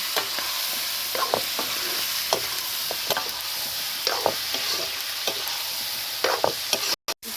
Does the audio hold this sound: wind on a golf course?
no